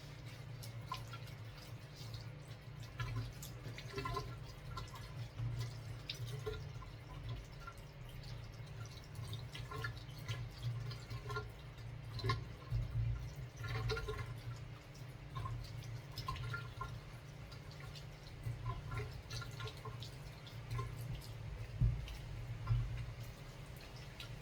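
Cassava being washed at a sink, with scattered water drips and soft splashes trickling at an irregular pace, faint and close over a low background hum.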